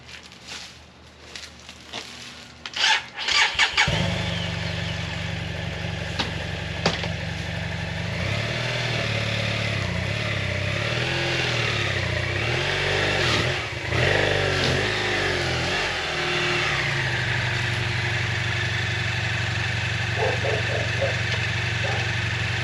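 A motorcycle engine fires up and settles into a steady idle, then revs up and down several times in rising and falling swells before returning to a loud, even idle, heard close with no talking.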